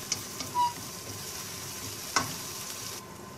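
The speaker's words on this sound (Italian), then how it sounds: "Mescoliamo fino a che non vediamo il colore un po'" Spinach and potatoes stirred in a pan over medium heat for an Indian aloo palak give quiet, close scraping strokes over a soft, continuous sizzle.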